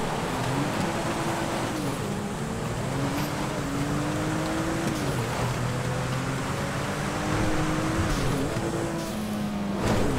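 Surano sports car in GTA 5, engine droning steadily and loud with rising and falling pitch as it speeds and shifts gears, road and wind noise beneath, no talk.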